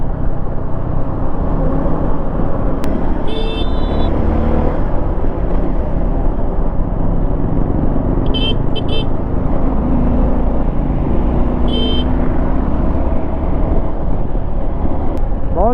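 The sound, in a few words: adventure motorcycle being ridden in city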